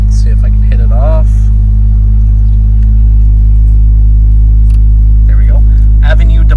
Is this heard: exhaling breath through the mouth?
no